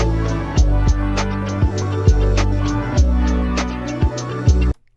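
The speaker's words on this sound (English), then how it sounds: "This is what the instrumental sounds like when it's all together" Instrumental backing of a pop song chorus, a full mix with a punchy kick drum and snare hits on a steady beat under sustained synth and bass chords, loud and clean before stopping abruptly.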